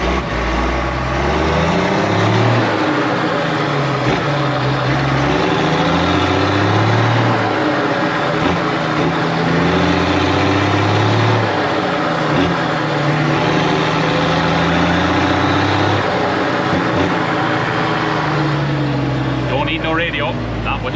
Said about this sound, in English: this is one of the reasons why I love driving these old tractors,